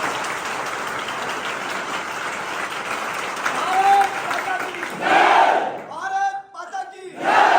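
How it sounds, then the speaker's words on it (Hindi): Crowd applause and cheering from students at a physical training academy, loud and sustained, with short bursts of clapping and shouts toward the end. "बहुत एक बार जोरदार तालियां।"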